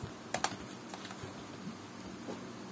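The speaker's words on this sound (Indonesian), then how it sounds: "Cek konfigurasi tadi dengan cukup mengetik perintah ifconfig." Light clicks of a computer keyboard as a command is typed, a few quick taps in a quiet room, a couple of sharper keystrokes near the start.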